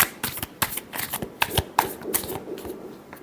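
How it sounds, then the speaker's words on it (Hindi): Tarot cards are shuffled by hand in quick, riffling bursts, a close series of crisp flutters and taps with no talk over them. "last shuffle"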